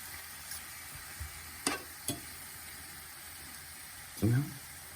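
Food frying and browning in a pan, a faint, steady sizzle broken by a few scraping stirs and one heavier clatter near the end.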